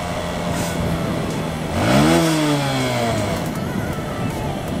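A motorcycle engine revs high in traffic, rising to a peak and then falling away over steady road noise, loud and near.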